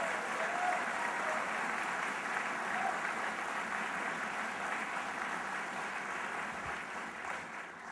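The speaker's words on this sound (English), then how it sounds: "let's give him a round of applause as well" A crowd applauds Senator Chuck Grassley at a political event in Iowa, a sustained, even roar of clapping that holds for several seconds and eases slightly toward the end.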